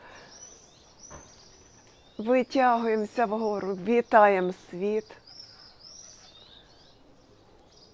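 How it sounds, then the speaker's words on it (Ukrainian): A recording of bird calls is played during a yoga class, with faint chirps and twitters running in the background beneath a woman's spoken instructions. "Тут я передаю вам трошки цих е, пташиних криків."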